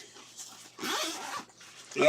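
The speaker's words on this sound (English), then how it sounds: "This new backpack, I have trouble finding the zippers." A zipper on a new backpack is drawn open in one short rasping pull, close and fairly loud, with brief quieter rustling around it.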